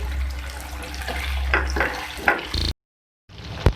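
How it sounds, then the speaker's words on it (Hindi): Fish pieces shallow-frying in oil in a pan for a homemade masala fish fry give a steady, close sizzle with scattered crackles and pops; the sound cuts out briefly, then resumes with one sharp pop. "ये देख सकते हैं आप, हमारी जो फिश है वो फ्राई हो रही है"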